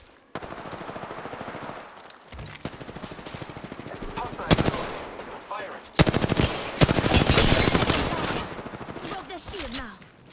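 Rapid automatic gunfire in the video game Apex Legends, loud close bursts of dense rattling shots with brief pauses between them, an in-game voice calling out briefly amid the firing.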